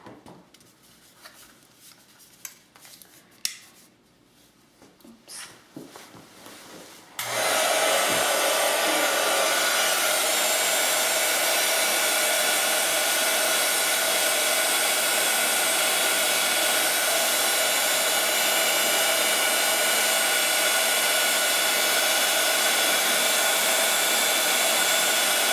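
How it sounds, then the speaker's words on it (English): A hot glue gun blows air to dry paper flower petals, a steady loud whooshing that starts abruptly after a few seconds of quiet handling noises and continues unbroken. "And then you can use your hot glue gun to dry them."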